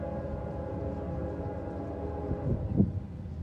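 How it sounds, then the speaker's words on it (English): A Nathan K5LA train horn sounds as trains pass during spring railfanning, a sustained multi-tone chord held under rumbling rail noise, swelling louder near the end. "Nathan K5LA horn."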